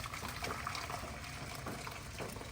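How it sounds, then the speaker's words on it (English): Hot water from a freshly boiled kettle pours into a pan for cooking macaroni, a steady close splashing gush lasting a couple of seconds. "My kettle's boiled, so I'm just going to add the hot water to it."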